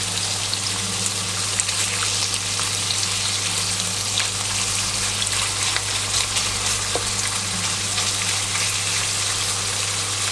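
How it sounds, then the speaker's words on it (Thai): Pork belly is stir-fried in a pan, making a loud, continuous close-up sizzle over a low hum, with faint scrapes as the pieces are turned. "ก็รวนอย่างเงี้ย กลับซ้ายกลับขวาไปสักพักหนึ่งก่อนให้มันสุก"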